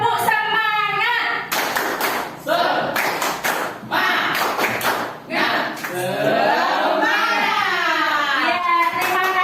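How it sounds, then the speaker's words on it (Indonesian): A group claps in a quick rhythmic pattern, the 'tepuk semangat' chant, at a teachers' dissemination session. Clustered claps come in bursts, with voices chanting along in between. "Ayo tepuk semangat"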